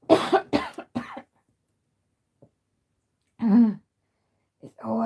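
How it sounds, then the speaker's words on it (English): A burst of several harsh coughs up close, followed by silence and a short groaning vocal sound. "always a bloody coughing"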